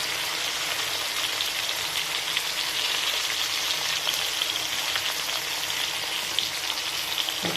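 Tomatoes with salt and turmeric frying in a pan, a continuous soft, even sizzle heard close and alone without talk.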